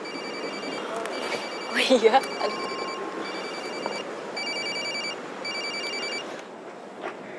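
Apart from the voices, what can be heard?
telephone ringing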